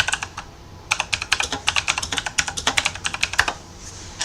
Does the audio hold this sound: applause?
no